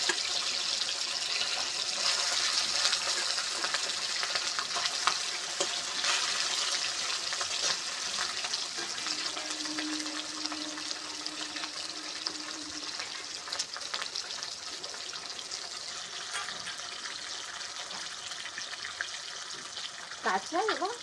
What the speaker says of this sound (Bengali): এবার মাছটা আমি দিয়ে দিচ্ছি। তেল গরম হয়ে গেছে